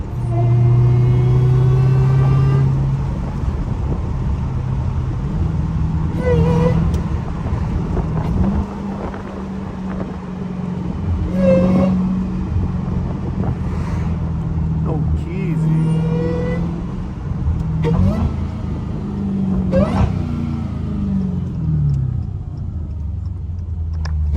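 A Dodge Hellcat's engine roars and revs hard while drifting through corners, loud and close with pitch rising and falling between bursts, tire and wind noise mixed in and someone talking over it.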